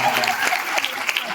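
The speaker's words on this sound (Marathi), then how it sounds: "टाळ्या वाजल्या पाहिजे" A studio audience claps briefly during a Marathi TV game show, Hou De Dhingana, with a short burst of applause mixed with speech.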